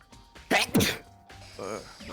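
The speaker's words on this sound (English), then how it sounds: "I gotta sneeze." A single close sneeze, sharp and sudden, with a brief inhaled buildup and a quieter voiced tail, followed by some low talking.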